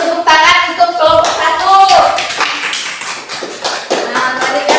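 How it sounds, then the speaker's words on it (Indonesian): Classroom clapping for a student group in a primary school religion lesson, brisk close-range hand claps mixed with children's voices and chatter throughout. "beri tepuk tangan untuk kelompok"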